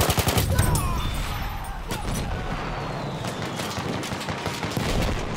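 Rapid machine gun fire rattles continuously in Battlefield 1, with dense bursts of shots and battle noise throughout and no speech.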